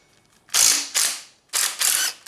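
An air impact gun working on a Yamaha Banshee clutch cover fires four loud, close rattling bursts, each under half a second, with short silent gaps between them and no voices.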